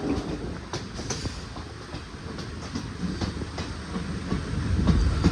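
Passenger train moving slowly between Kollam and Madurai, with steady rumble and repeated clickety-clack of wheels over rail joints, close and continuous throughout without talk.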